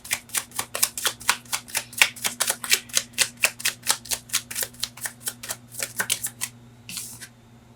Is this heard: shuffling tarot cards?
yes